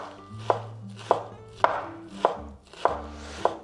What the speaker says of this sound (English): we're just going to finely chop this up